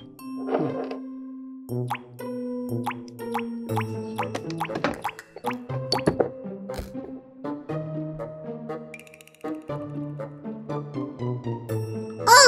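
Water drips from a toy tea maker during a children's pretend-cooking play, making a run of close, repeated plinking drops and plops against a tonal background.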